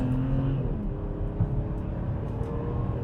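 A BMW with an M54 inline-six engine accelerates hard on a road test, a loud, close, continuous engine drone with rising revs and gear changes, heard alone without talk.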